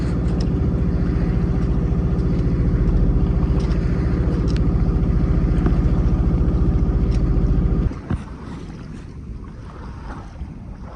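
A sailboat's engine drones steadily while motoring across open water, a loud, close, even throb that cuts out near the end and leaves only wind and water rushing.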